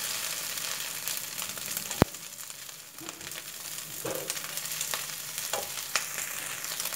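Noodles with crab and curry powder stir-fry in a hot pan, a continuous loud sizzle broken by sharp scrapes and clanks of the spatula as the food is tossed.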